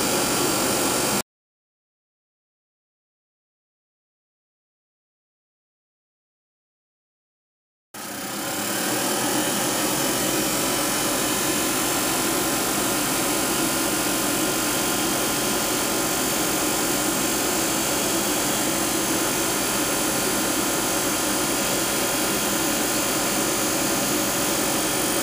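A professional cotton candy machine spins steadily with a loud, continuous whirring hum, after a brief dropout of several seconds, running alone without voices.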